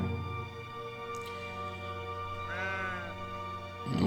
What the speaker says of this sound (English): You can hear the bells from the sheep again here.